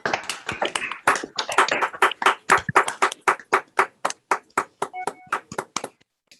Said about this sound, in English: And now could we all have unmute ourselves and applaud these tremendous people.